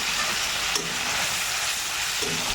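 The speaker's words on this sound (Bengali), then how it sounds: "মশলা দিয়ে দেওয়ার পর মশলা খুব ভালোভাবে এখানে কষিয়ে নিতে হবে।" Cumin, coriander, ginger paste and Kashmiri dried chilli powder sautéing in hot oil for khichuri: a loud, continuous, close sizzle with faint stirring scrapes, no talking.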